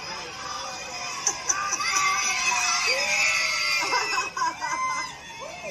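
A crowd of schoolchildren at a parade shouts and cheers in a continuous high-pitched din, with a few louder shrieks standing out, heard from a moderate distance.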